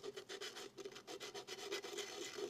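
Sandpaper rubbed by hand over a small metal jewelry piece, a close, steady rasping scrape in short repeated strokes with no talk.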